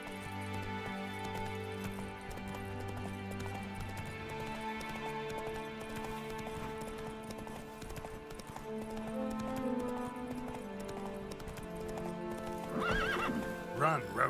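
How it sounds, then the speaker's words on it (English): Horse hooves clip-clop at a gallop with occasional neighs and whinnies in a fantasy role-playing game, steady throughout under a continuous musical score and game ambience, with brief speech-like sounds near the end. "Run, Roach"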